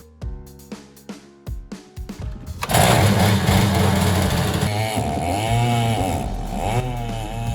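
A Stihl 088 chainsaw engine mounted as a longtail boat motor sputters through a few pulls and coughs, then catches and roars steadily at high revs, loud and close, with its pitch wavering.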